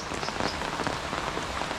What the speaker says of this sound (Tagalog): Grabe yung ulan. Lakas. Laging na ulan dito.